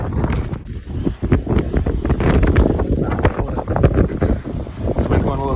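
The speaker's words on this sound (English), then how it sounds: "This wind's going a little crazy now." Strong wind gusts buffet the microphone on a closed snowy road after a snowstorm, a steady roaring rush with flutter, while a person talks throughout.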